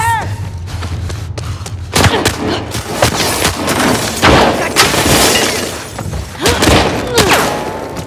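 Gunfire in The Last of Us Part II during a fight with Nora, with repeated sharp shots and thuds mixed with game effects and breaking glass, loud and close, under excited talking.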